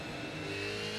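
A race car engine in Assetto Corsa with the Fonseca sound mod drones at steady high revs, a dense buzzing whine with layered harmonics, loud and continuous over a single second without talk.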